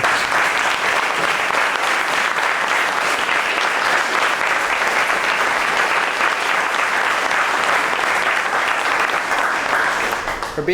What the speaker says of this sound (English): Just a quick round of applause